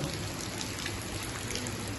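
Steady rain pattering down, a dense even hiss of drops on a surface with no pauses, fairly close and moderately loud.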